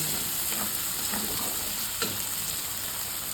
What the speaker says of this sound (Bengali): ভেজে রাখা আলুগুলো দিয়ে দেবো, দিয়ে মশলার সঙ্গে এটা কষিয়ে নিই ভালো করে